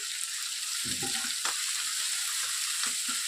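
Fenugreek leaves fry in a pan, a steady, bright sizzle with soft stirring scrapes now and then, heard close up and alone.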